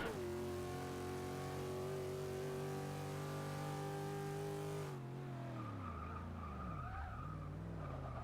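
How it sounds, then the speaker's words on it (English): A race car in the Forza video game brakes hard into a corner, its steady engine tone suddenly dropping in pitch as the tires squeal and skid, then the revs dip low and climb again, loud and close throughout. "Gonna just do my braking stuff, get into that corner, very nice and clean."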